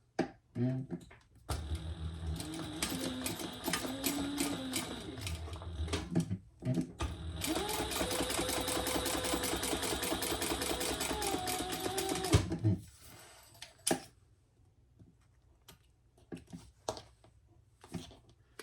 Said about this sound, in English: now I am going to stitch, starting down here